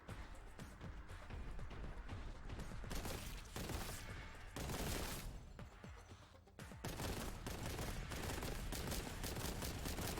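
Dense, rapid bolter gunfire from the Warhammer Boltgun video game, continuous bursts of shots at fairly even loudness over ten seconds with brief dips, and no talking.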